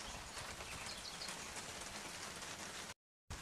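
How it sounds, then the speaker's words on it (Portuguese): Steady rain falls on outdoor surfaces in a succulent garden, a continuous dense patter with no talk, ending in a brief silent gap. "vamos sair da chuva."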